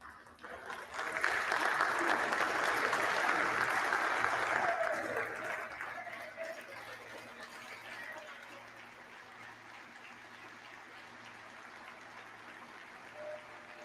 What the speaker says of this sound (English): Just giving standing ovation.